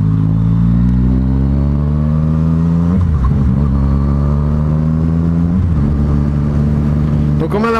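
Yamaha MT-09 motorcycle engine heard close while riding, a loud steady harmonic drone with rising revs that break at gear shifts around three and five and a half seconds, with wind rumble underneath.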